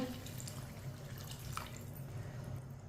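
Water poured by the glass into a cooking pot for chicken rice runs steadily in a continuous gentle splashing stream, close by, with a faint drip or clink midway and no talking.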